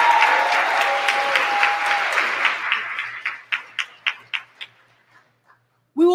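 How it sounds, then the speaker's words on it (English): An audience at the 2024 LOC Honors Program ceremony claps in a full, dense burst that gradually thins into scattered individual claps before fading out. "let's give our President and Dean's List Scholars a round of applause"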